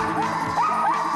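A territorial dog barks and yips in a few quick, close, high-pitched bursts, sounding agitated and insistent.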